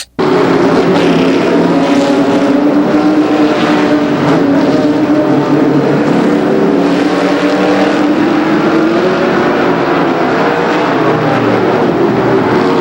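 Race cars roar around the tight 1/5 mile oval at Raceway Park in a 1992 championship event, a loud, dense pack of engines droning continuously with rising and falling pitch as cars pass close by.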